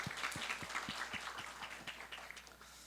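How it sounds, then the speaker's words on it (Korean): A church congregation claps together in a rhythmic unison beat, fairly faint and distant, the regular claps thinning out after a couple of seconds. "우리 예수 그리스도 이름 앞에 최고 영광의 박수를 다시 한번 힘있게 올려드립시다."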